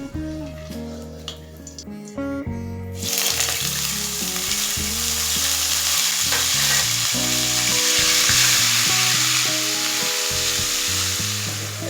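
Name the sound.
onion paste frying in hot oil with whole spices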